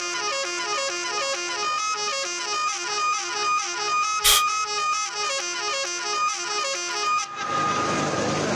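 Car horns honking continuously near the Gaza and Israel border, several sustained tones layered into a loud, droning chorus, with a sharp knock partway through before the honking gives way to noise.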